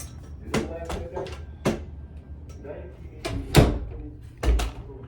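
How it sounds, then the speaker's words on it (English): A bedroom door is pushed shut with a few bumps and handling knocks, ending in a firmer thud, close by and fairly loud amid background noise. "I'm gonna close my door so you don't hear that as much."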